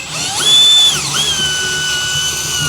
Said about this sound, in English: I'm going to turn the drill sideways.